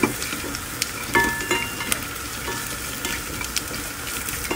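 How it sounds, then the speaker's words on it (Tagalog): Sliced white mushrooms with onion and garlic sautéing in a pan for a cream of mushroom soup, a soft steady sizzle with repeated clicks and scrapes of a spoon stirring, no speech. "Haluin hanggang sa maging lumambot ang mushroom."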